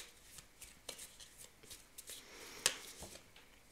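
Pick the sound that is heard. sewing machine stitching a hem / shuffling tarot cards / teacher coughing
shuffling tarot cards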